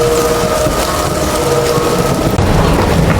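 Heavy rain pours as a dense, continuous broadband hiss with a deep rumbling undertone, loud and steady throughout, with no voices over it.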